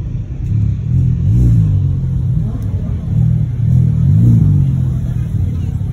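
A Porsche rumbles past at a car meet, its low engine note rising and falling in two close revving swells over a few seconds.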